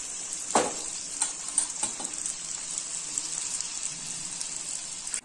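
Paniyaram batter sizzling in a pan, a steady bright frying hiss with a few soft clinks and scrapes near the start, close and alone.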